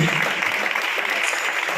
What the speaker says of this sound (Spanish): Honra a Dios con un aplauso, por favor